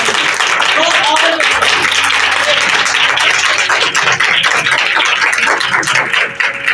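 A church congregation at a youth meeting in Hyderabad breaks into loud, dense applause that fills the room continuously, with a voice talking over it.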